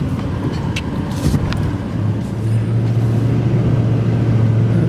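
A car creeps slowly up a rough, freshly cut dirt road on rural acreage, its engine a steady close rumble that deepens and strengthens midway, with occasional light knocks and rattles.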